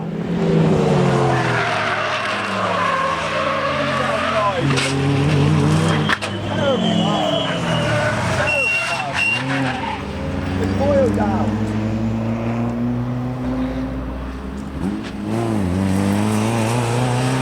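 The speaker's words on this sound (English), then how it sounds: "And we've got a car that's spun. Oh, it's got going again, somewhat delayed, Dean Warriner." A race car spins and then drives on at the Donington Park circuit, with tyre squeal and engine roar from the racing field running continuously beneath steady commentary.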